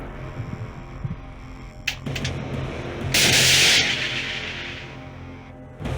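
A sudden loud whooshing blast erupts after some clicks as an anti-tank guided missile is fired, a roaring rush of noise lasting about a second before fading into a low hum.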